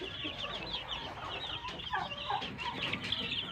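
Rhode Island White chickens clucking in a free-range backyard flock, several birds giving close, overlapping clucks and short calls over a continuous outdoor background, with no talking.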